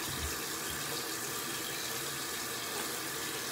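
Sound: water running from a tap while washing hands

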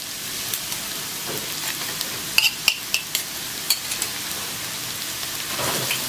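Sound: frying and stirring vegetables in pan

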